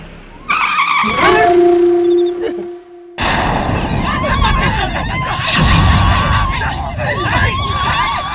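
Car skidding to a stop, with a loud tire screech and a high sustained squeal, then a burst of rough, noisy engine and road rumble that continues under strained animal-like howling tones.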